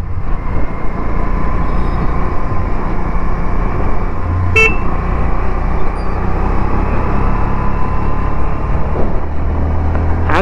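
Riding a 2024 Bajaj Avenger Street 160 motorcycle with its DTSI engine produces a steady, loud engine drone and wind noise throughout, with a short horn toot from traffic near the middle.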